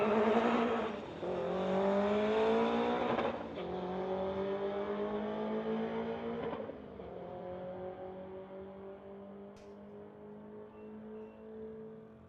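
A Lexus and an Acura on street tires drag racing down a strip, engines roaring loudly at first, then shifting and fading into a steady distant drone, with no voices.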